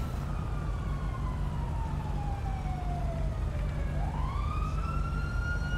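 A police car siren in Grand Theft Auto V wails steadily, its pitch sliding down then sweeping back up, loud over a constant low engine rumble.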